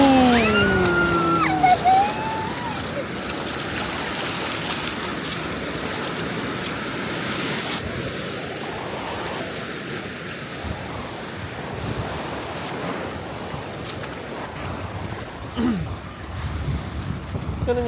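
Ocean surf rolling onto the beach at Point Dume in Malibu, a steady wash of breaking waves with wind buffeting the microphone throughout and occasional louder surges.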